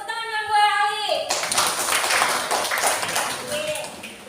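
Students applaud a classmate in a classroom, a burst of hand clapping from a small group after a short tone, fading over a few seconds.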